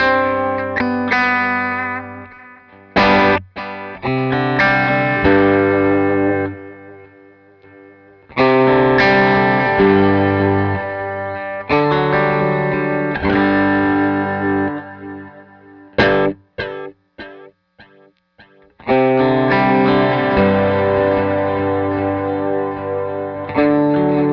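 Electric guitar playing chords and riffs through a Meris LVX delay pedal on its Digital 1 preset, without reverb, notes repeating and trailing off after each phrase, with brief pauses between passages.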